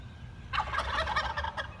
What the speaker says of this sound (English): two males, but they're doing noises. Two male turkeys.